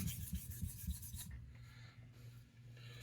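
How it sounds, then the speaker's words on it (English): A straight razor is stroked across a 1k Chosera whetstone, making close, rhythmic gritty rubbing strokes that give way to a quieter, smoother scrape. "I've got some pressure and a bit of forward torque happening with this razor as well"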